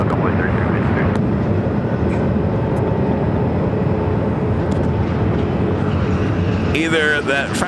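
A jet aircraft roars steadily on runway 7 left at Phoenix Sky Harbor, a loud, continuous broadband rumble with a sharper whine near the end; radio chatter may sit faintly underneath.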